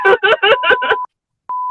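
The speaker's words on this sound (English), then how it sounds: "So I like if you do the bleep button like multiple times in a row. It sounds like a dump truck backup alarm." A bleep button pressed repeatedly gives five quick tonal beeps in a row, like a dump truck backup alarm, then a pause and one longer steady beep.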